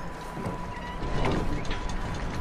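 A barn door opened in Red Dead Redemption 2, a continuous creaking, grinding mechanical rumble that swells midway, with no talk.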